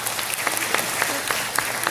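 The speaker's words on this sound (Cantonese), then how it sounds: "俾多啲掌聲支持佢哋好唔好啊？" An audience applauds at a memorial event for a Cantonese opera performer: dense, steady clapping from a crowd, loud and continuous for the whole clip.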